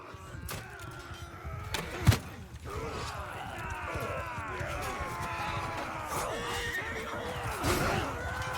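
Horses whinnying amid a medieval battle in Mount & Blade II: Bannerlord, several sharp neighs and clip-clop of hooves over a low rumbling din, with one loud thump near the start and a voice talking faintly.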